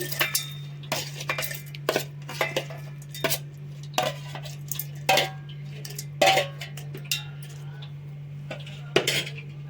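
Cooled ingredients for a raw wood apple chutney go into a mixer grinder jar, with a run of sharp metal clinks and taps from a spoon against the jar over a low steady hum.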